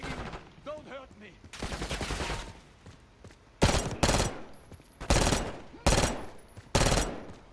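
Gunfire in Call of Duty Black Ops 6: several sharp, loud bursts of shots in separate clusters, with shouting voices between them early on.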